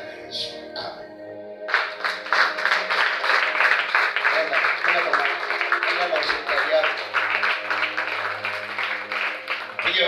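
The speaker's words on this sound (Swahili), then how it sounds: "Piga makofi tena kwa Yesu na Mungu." A church congregation breaks into sustained, rhythmic applause that starts suddenly and continues loud and close, with a voice heard briefly before the clapping begins.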